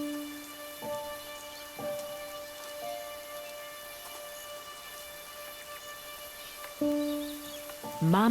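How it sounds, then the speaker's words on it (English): Steady rainfall hiss in a wombat's outdoor habitat, a diffuse wash running the whole time beneath gentle sustained music notes, with no voices. "they shelter from the rain together"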